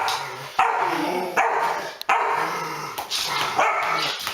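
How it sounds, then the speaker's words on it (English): A twelve-week-old Rottweiler puppy barking, several sharp, close yips and barks in an irregular rhythm, with low growls between them. "She does not like him barking at her."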